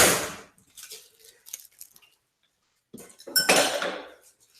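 A metal spoon is swapped for a clean one during chicken Caesar salad prep, giving a loud clatter of spoons and cutlery up close at the start, then scattered soft clinks, and a second burst of dish and utensil noise near the end.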